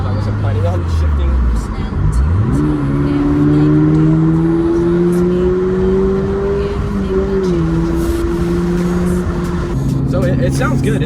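A 2022 Subaru BRZ with a MagnaFlow catback exhaust revs hard, climbing to a sustained high drone before dropping back. The engine is loud and close, and someone talks over parts of it.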